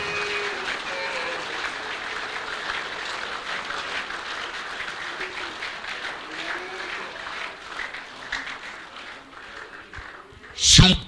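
A church congregation applauds through a sustained wash of clapping at moderate level, mixed with some voices, before a sharp louder burst right at the end.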